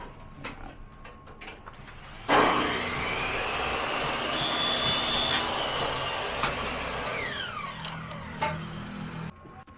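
Drilling and riveting on an aluminum hanging cabinet frame: a steady whirring machine sound starts abruptly and runs for several seconds with rising tonal whine, alongside sharp clicks and mechanical clatter, fairly close, with no talking.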